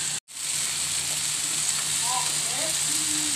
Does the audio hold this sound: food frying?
yes